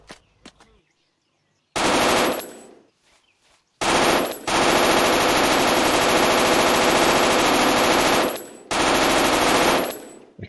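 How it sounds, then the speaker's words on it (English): Machine gun fire in a World War II video game set on Omaha Beach, with long, dense, sustained bursts separated by brief silences, loud and close. "A casual waste of bullets."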